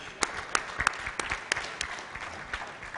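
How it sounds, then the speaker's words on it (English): Audience applause at a conference valedictory session, a dense patter of hand claps with a few sharper close claps standing out, fairly even and moderately loud, with no speech over it. "Please give a round of applause."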